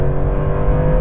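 A Porsche 911 Turbo S engine under acceleration gives a brief, steady, loud tonal drone lasting about a second, with no voices.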